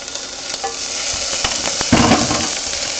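Diced onion sizzles loudly in hot olive oil in a pan, a steady, close hiss that swells into a stronger burst partway through, with no voices.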